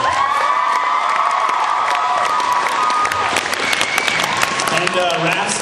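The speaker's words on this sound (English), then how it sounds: "How about another applause for her?" Loud applause and cheering from a school audience at a student talent show, dense clapping mixed with whoops and children's shouts, with a voice carrying over the crowd.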